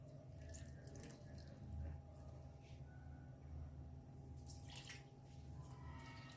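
Quiet trickle of water being poured onto tamarind pulp, with faint splashes and drips against a soft background hum.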